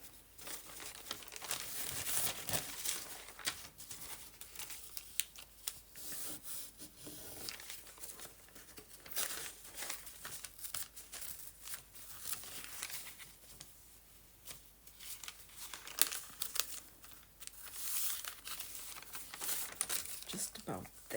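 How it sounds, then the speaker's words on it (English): Specially woven paper for a mini journal is torn and ripped slowly, with close crinkling, rasping tears and rustling that come in uneven bursts across the whole stretch. "It's woven in a special way, so it's a bit difficult to rip it."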